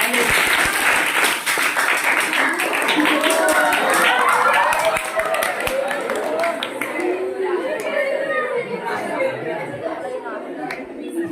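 A crowd at a magic show applauds loudly at first, then the clapping thins out as chatter and voices from the audience rise and carry on over the fading claps.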